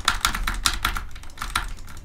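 Rapid, intense clatter of computer keyboard typing, with bursts of close, sharp key clicks in quick irregular rhythm and no voices.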